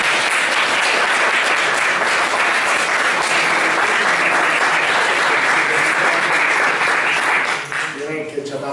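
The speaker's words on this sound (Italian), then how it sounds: "Beh, io farei un applauso." Audience applause at a public lecture, dense and sustained clapping from a full room for most of the clip before it thins out and fades near the end.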